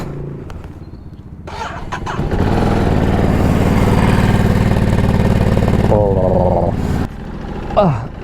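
A 2024 Ducati Multistrada V4S Grand Tour, a 170 hp V4 motorcycle, idles unevenly at first, then holds a loud, steady engine drone for several seconds before it drops back with a brief rise near the end.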